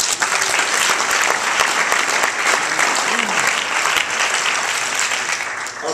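A crowd at a New Jersey Democratic Party morning gathering applauds loudly and steadily for its speakers, a dense wash of clapping that fills the whole stretch with a few voices mixed in.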